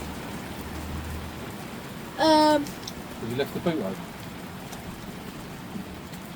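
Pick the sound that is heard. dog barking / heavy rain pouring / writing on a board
heavy rain pouring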